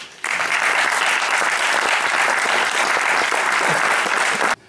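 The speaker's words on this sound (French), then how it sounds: "Vous pouvez l'applaudir" Dense, steady applause from an audience at a philosophy talk, loud and continuous for several seconds before cutting off abruptly.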